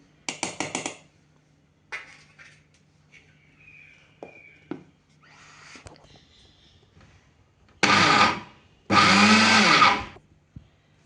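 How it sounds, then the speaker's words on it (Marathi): Mixer grinder whirring in two loud bursts of about a second each as kitchen king masala spice blend is blended, with softer kitchen clatter and handling sounds before. "आता आपण हे मिक्सरवरती एकदा फिरवून घेऊ, म्हणजे संपूर्ण मसाला व्यवस्थित मिक्स होईल"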